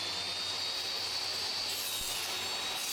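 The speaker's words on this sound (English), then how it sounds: "So I'm just trimming some strips down here." A table saw trims wood strips, making a steady, dense whirring buzz from the spinning blade throughout, with a brief thump midway and no speech.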